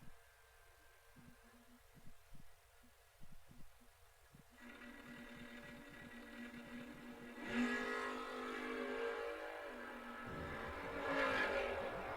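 Malibu and Camaro drag race cars idling quietly at first, then engines swelling loudly as they launch down the strip, with a second surge of roaring near the end.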